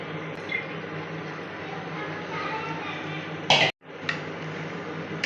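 Chicken pieces go into a pot of masala for Sunday chicken biryani, a steady close sizzle and frying hiss with a sharp clank of metal near the end, while someone talks.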